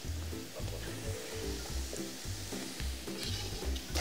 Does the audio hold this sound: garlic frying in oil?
yes